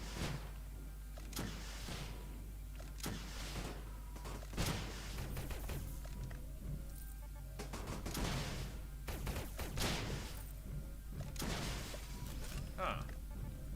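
Turrets firing indoors in Starbound, a string of sharp bursting shots at irregular intervals over a constant low hum, with a voice talking among them.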